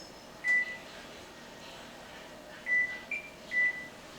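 A kitchen timer being set for five minutes while chocolate chip cookies rest, giving a few short, clear electronic beeps: one early, then a cluster of three near the end, against a quiet room.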